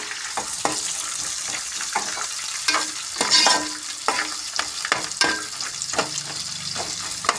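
A South Indian tempering with curry leaves and turmeric sizzles in a pan, its continuous crackle broken by repeated sharp scrapes and clacks of stirring, all close and fairly loud.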